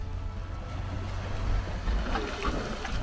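Low, steady rumbling and churning from Dragon's Mouth Spring, a steaming hot spring cave, a continuous deep roar with faint splashing swells, fairly close and without talk.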